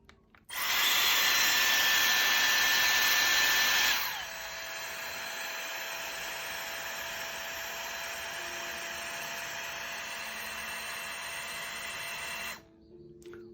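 A Dyson Airstrait hair dryer-straightener whirs loudly at a high setting for a few seconds, then drops to a steadier, softer motor hum that runs evenly until it switches off near the end, with no talk over it.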